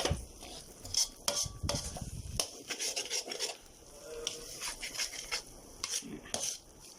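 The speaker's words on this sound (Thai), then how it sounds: "กระเทียมหอมแดงพริกเนาะพวกนี้เราไม่ได้ไปคั่วก่อนนะ เราใช้ของสดเราก็ต้องผัดนานนิดนึงนะคะ" Fresh garlic, shallots and chili stir-fried in a pan for northern Thai khanom jeen nam ngiao make repeated scraping and clinking of a utensil against the pan over a low sizzle, close and moderately loud.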